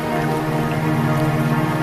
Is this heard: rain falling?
yes